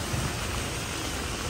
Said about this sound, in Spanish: sigue lloviendo y lloviendo.